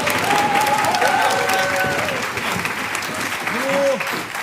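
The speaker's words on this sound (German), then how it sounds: "Applaus." Studio audience of a Schlager TV show applauding: dense, sustained clapping from a large crowd throughout, with a few whistles and cheers near the start and a short vocal exclamation toward the end.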